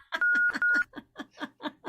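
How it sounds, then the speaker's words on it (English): A short two-note bell chime sounds as an added effect, ringing over a string of rhythmic, laugh-like vocal bursts. "There's the bell."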